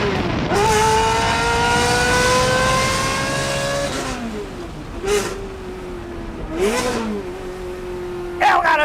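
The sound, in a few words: Ferrari 360 Modena F1 engine roaring and revving in tunnel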